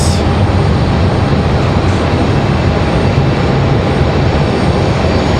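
A Delta Air Lines airliner arriving at Raleigh-Durham International from Los Angeles gives a loud, steady, broad engine roar that holds throughout, with no talk.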